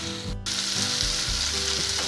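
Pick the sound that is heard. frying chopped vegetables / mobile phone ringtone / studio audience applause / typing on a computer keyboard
frying chopped vegetables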